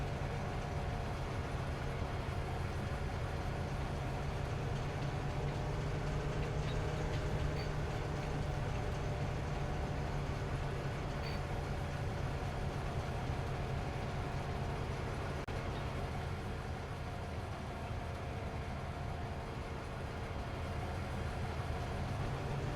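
A lime and fertilizer train rolls along a railway in Farming Simulator 25, a continuous low rumble and rolling drone that stays even and moderately distant throughout.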